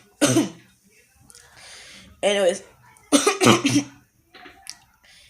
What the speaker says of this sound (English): so I'm gonna be coughing for a while.